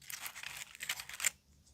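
Dry natural leaves crackle and crunch as they are handled up close in a quiet setting, a short run of crisp crinkling bursts that fade out.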